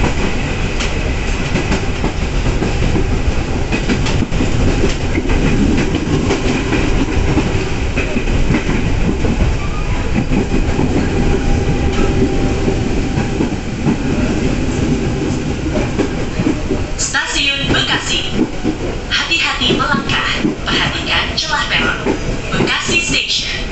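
A commuter train pulls into Bekasi station on Indonesia's rail line, with a steady, loud rumble of cars and wheels that holds throughout and then breaks into sharper clattering near the end, with voices mixed in.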